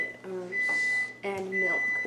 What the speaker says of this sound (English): we have in the microwave some of those cheap, disgusting sausages